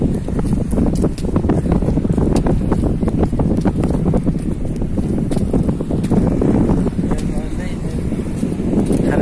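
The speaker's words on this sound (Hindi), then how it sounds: "बारिश का मौसम है, ठंडा हवा चल रहा है।" Gusty, cold wind at a large bridge at Dahej port, Gujarat, in the rainy season, buffets the microphone with a rough, roaring rumble, with a voice talking faintly underneath.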